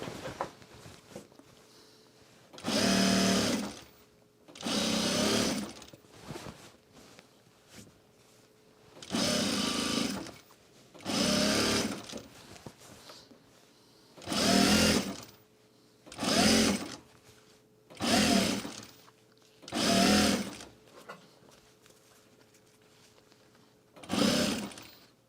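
A sewing machine stitches edge binding on a duffle bag in about ten separate bursts of rapid whirring, each a second or two long, with quiet gaps of handling between them.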